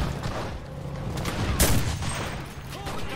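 Dense, continuous gunfire from the World War II shooter Enlisted during an infantry assault, a steady rattle of shots with a louder burst near the middle, heard close and without talk.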